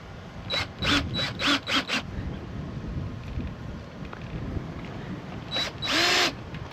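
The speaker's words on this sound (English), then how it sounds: "Now I got to get the screws in here." A cordless power drill driving screws into an RV door lock, several short whirring bursts around the first two seconds, a quieter pause, then a louder final burst near the end, close by.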